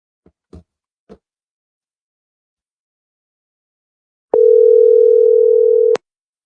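A single steady phone tone from a WhatsApp call sounds for about a second and a half and cuts off abruptly. It follows a few faint knocks and handling clicks in otherwise silent surroundings.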